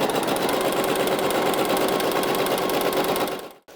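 A sewing machine stitches a gathering line in a rapid, steady mechanical chatter, loud and close, running continuously for a few seconds before stopping abruptly.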